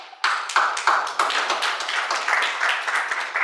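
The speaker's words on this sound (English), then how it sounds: "Can we clap for ourselves?" A small conference audience claps, starting with a few distinct nearby claps that build into a loose, uneven round of applause and hold steady to the end.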